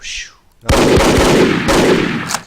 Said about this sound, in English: Another heavy machine gun did not keep his rate of fire.